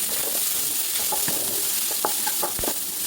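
Onions with a little rock salt and fennel seeds sautéing in a pan, giving a steady soft sizzle with scattered stirring scrapes and clinks, close and fairly quiet with no talking.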